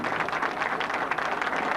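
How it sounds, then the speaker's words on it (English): A crowd at a televised candlepin bowling match applauds a defeated champion, a steady dense wash of clapping held at an even level from start to finish. "You can hear the applause for Tom."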